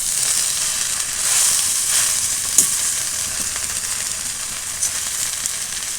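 Susni greens frying Bengali style in a covered pan, giving a loud, steady sizzling hiss with a few sharp clicks and pops, and no voices.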